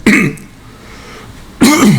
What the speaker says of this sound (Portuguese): Perdão, a tosse.